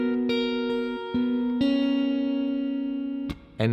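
A guitar plays the closing phrase of a verse riff with a few plucked notes, long ringing sustains and an open string, ending in a sharp strum. It is played alone, close and moderately quiet.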